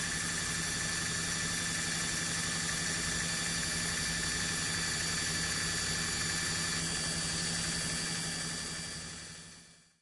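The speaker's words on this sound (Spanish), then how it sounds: "giramos el eje de la bomba en 1500 RPM durante un tiempo de 5 minutos" An oil pump shaft spun at 1500 RPM on a carburetor test bench gives a steady mechanical hum with a constant whine, level and unbroken, then fades out at the end.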